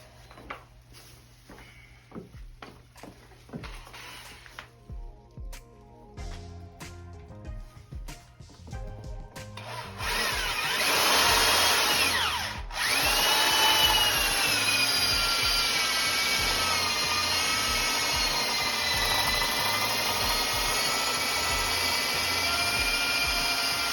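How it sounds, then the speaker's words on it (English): A power drill whirs steadily and loudly for a long stretch after some scattered tool clatter and knocks, while framing a basement wall. "I'm gonna go ahead and get started with a little bit of drilling"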